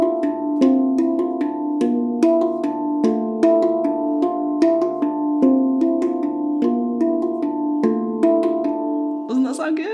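A handpan tuned to D Kurd plays Carol of the Bells, with ringing metallic notes struck in a steady, repeating pattern and long sustained overtones, close and clear, ending with a brighter flurry of strikes.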